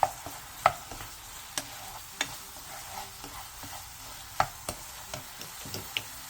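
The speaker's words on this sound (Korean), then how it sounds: "그 다음 양파를 넣고 가볍게 1분 정도 더 볶아주세요" Fish cake and onion stir-fried over medium-low heat, a soft steady sizzle with scattered light scraping taps of the spatula against the pan at irregular intervals.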